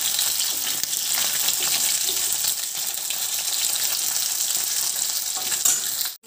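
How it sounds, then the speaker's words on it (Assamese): Fish fries in hot oil in a home kitchen, a steady, loud, close sizzle and crackle that holds evenly throughout before cutting off at the end. "মাছটো ফ্ৰাই কৰি আছোঁ।"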